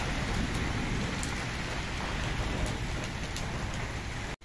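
Stormy heavy rain pours down on a village in a dense, unbroken hiss of drops hitting roofs and ground, loud and close, until it cuts off abruptly at the very end.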